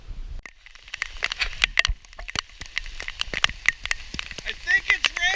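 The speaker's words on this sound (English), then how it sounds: "I think it's raining!" Rain falling in the woods during a hike, a dense scatter of close, crisp drops pattering and crackling on leaves and ground, steady for a few seconds with no voices.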